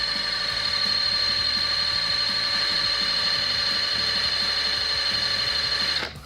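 A 500 watt wind turbine being spun by hand, giving a steady, loud whirring whine with a strong held tone that runs several seconds and then cuts off abruptly at the end.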